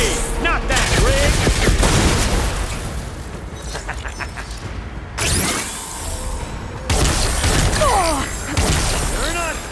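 Video game gunfire crackles in dense, loud bursts and rapid volleys with sharp impacts and booms, a brief lull midway before the shooting resumes, with a player's voice occasionally heard over the action.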